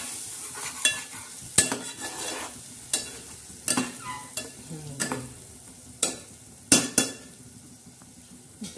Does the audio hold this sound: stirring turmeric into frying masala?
yes